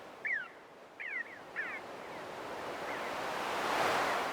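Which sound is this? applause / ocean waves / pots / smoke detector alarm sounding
ocean waves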